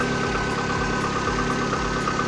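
A Lada Kalina 1118 with a 1.6 engine idles steadily right after a full overhaul, a smooth, even mid-pitched hum with a faint regular pulse running through the whole stretch, heard close and alone.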